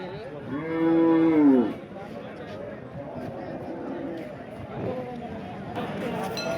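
A cow lets out one loud, drawn-out moo near the start, followed by crowd chatter and murmuring voices of the busy Deulgaon Raja cattle and buffalo market.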